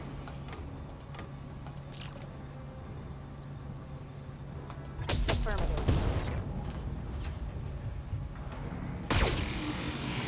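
Weapons discharge in BattleTech, a burst of heavy impacts and crackling shots around the midpoint and another sharp blast near the end, over a steady low game hum with faint chatter.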